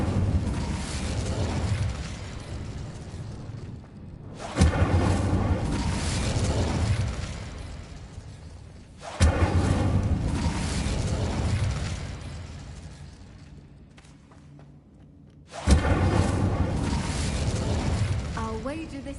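Three loud, roaring bursts of an Incendio fire spell go off in a video game, each a sudden whooshing blast that fades slowly. Long pauses separate the bursts.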